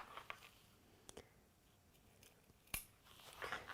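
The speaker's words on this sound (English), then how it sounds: "I'm going to cut right up to my stitch line" Scissors snipping fabric up to a stitch line for an envelope pouch: a few faint, sparse close crisp snips with quiet pauses between.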